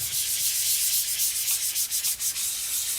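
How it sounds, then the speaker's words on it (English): Steady hand sanding of a Mercedes-Benz 560SL center console with 500-grit sandpaper between coats: a continuous close, hissing scrape with slight rhythmic dips from the back-and-forth strokes. "Sanding between coats."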